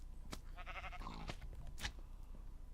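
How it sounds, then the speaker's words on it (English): A Minecraft sheep bleating from the Dokucraft Light resource pack, one short wavering baa heard clearly and alone against a faint background. "The sheep."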